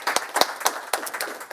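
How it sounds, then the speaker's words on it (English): Applause from the audience at the end of a conference session on electric mobility and charging infrastructure in Nordic cities: a brief scatter of sharp, uneven claps from a modest crowd, fairly close, with no talk. "No questions, so big rounds of applause."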